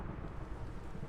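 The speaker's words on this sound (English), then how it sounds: "Plus, thunderstorms are disturbing." A low, continuous rumble of thunder rolls through a Minecraft thunderstorm with a rain-like hiss layered on top, steady and moderately loud across the whole short stretch, with no talking.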